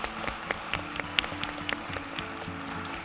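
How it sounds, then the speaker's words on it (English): Applause from a forum audience for panelists in a large hall, moderately faint and steady, with scattered sharper claps standing out over a low hum of the room. "please join me in giving our panelists a big round of applause"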